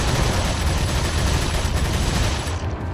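Rapid TMP submachine gun fire during a boss fight in Resident Evil 4, a loud, continuous rattling stream of shots that cuts off abruptly near the end.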